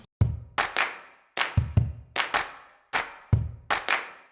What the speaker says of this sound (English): the second clap track here, the claps are very dry and they're a different sound source